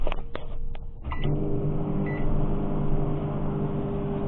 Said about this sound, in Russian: Засовываем в микроволновку.